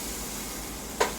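Butter sizzling in a hot pan with chopped onion nearby, a steady soft frying hiss throughout with one brief louder crackle near the end, no talking.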